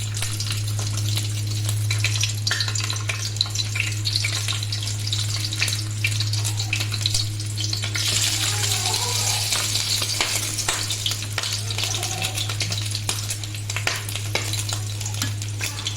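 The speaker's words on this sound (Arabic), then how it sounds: "السمنه هنا سخنت معايا قوي. هنزل بقى معايا بلحمه الراس." Beef head meat hits hot ghee and oil in a tray, throwing up a loud, continuous sizzle and crackle with occasional stirring scrapes, close and with no talking.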